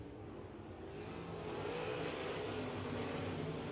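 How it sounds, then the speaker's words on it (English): Race cars roar at speed under green flag conditions at RPM Speedway during a dirt track event, with a loud, continuous engine drone that swells slightly as the field presses on. "Driver's going to head off down into 1 and 2, all in pursuit of the 33 car of Kobe Walters."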